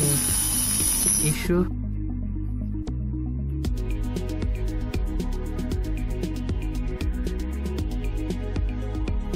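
A small homemade mini chop saw cuts a 3mm stainless steel bolt; a high, close grinding whine opens, then gives way to a rapid, even run of metallic ratcheting clicks.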